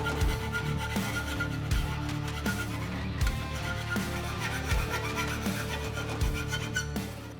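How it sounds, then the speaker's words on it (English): Grinder working the cut edge of a 2024 Ford Mustang exhaust pipe to smooth sharp burrs, a continuous metallic whine with repeated scraping passes and brief bursts of harsher grinding, fairly close and steady with no talking. "Now we're going to grind this clean,"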